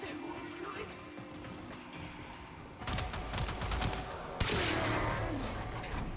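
Weapon reload in the shooter game Warframe, with a dense mechanical clatter of clicks and ratcheting that swells midway and continues over steady background game noise.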